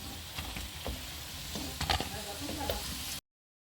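Pakoras fry in hot oil with a steady crackling sizzle, close, with occasional stirring clatter; the sound cuts off abruptly near the end.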